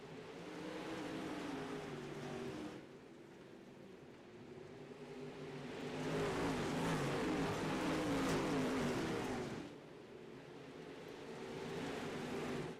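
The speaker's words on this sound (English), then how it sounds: "We're going to let you hear these engines roar." Late model dirt race cars roar together at the green flag start at Cedar Lake, a loud sustained engine drone that swells and fades as the pack passes, with no talk over it.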